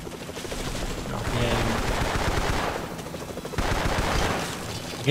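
Machine-gun fire in the Vietnam war shooter Vietcong rattles in dense sustained bursts, dipping briefly midway before another loud volley, with someone speaking over the shooting.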